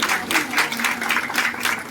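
Audience applause at an International Nurses Week celebration in a hospital hall, a steady wash of many hands clapping for about two seconds, fairly loud and even with no talk over it.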